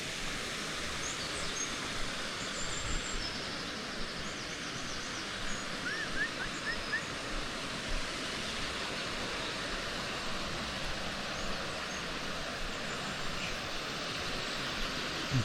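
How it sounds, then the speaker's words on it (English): A river waterfall heard from a distance as a faint, steady broadband rush of falling water, continuous and even throughout with no voices. "see if you can maybe pick up the noise of the waterfall"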